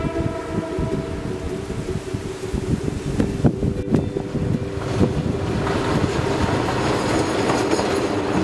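A train rolls along the tracks close by, with rhythmic clickety-clack of wheels over rail joints, a steady rumble of wagons and a faint tonal whine, continuous and loud throughout.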